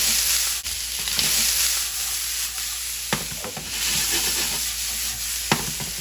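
Corn kernels seasoned with salt and a Tex-Mex rub sizzle steadily in an oiled pan, with occasional sharp scrapes and stirs of a utensil against the pan over a constant frying hiss.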